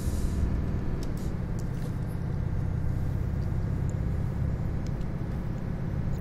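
A Volvo truck rolls along a road, its engine a steady, continuous low rumble with constant road noise and no pauses or breaks.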